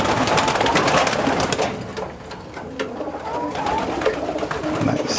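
Racing pigeons coo steadily in a one-loft race loft, a dense, continuous murmur of many birds with occasional wing flutters and clatter, close and fairly loud.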